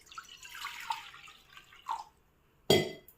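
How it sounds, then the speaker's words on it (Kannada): Water poured into a pan on a lit stove for cooking pumpkin, heard as scattered light drips and trickles, then one short, louder splash near the end, close by with no talk. "ನಂತರ ಅದಕ್ಕೆ ಸ್ವಲ್ಪ ನೀರನ್ನು ಹಾಕಿ"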